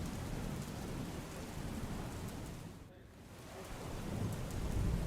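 Heavy early-morning rain pours down in Mehsana as a dense, steady roar that swells slightly toward the end, with a low rumble of thunder mixed into the downpour and no voices.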